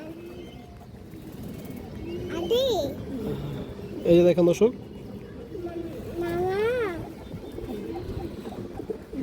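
Pigeons of an old Bradland breed coo in soft, repeated bursts close by, while someone talks over them throughout.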